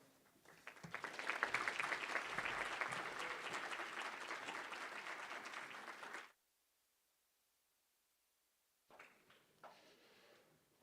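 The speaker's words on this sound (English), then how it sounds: "One more round of applause for Mrs. Zuba, please." Applause erupts after a speech at a memorial foundation's benefit dinner, swelling quickly into loud, sustained clapping, then stopping abruptly before a fainter burst of scattered claps returns.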